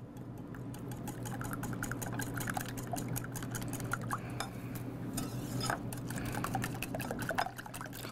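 3% milk poured into a mixing bowl of 10% cream at a kitchen counter, a steady liquid pour with light clinks of a bowl and utensils over a low background hum.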